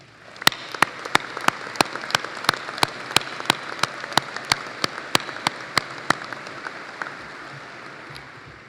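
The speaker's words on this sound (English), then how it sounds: "Let's have a round of applause for our first-time instructors." An audience applauds at an instructor training program completion ceremony, a steady wash of clapping with sharp, evenly spaced claps standing out near the front, then fading away.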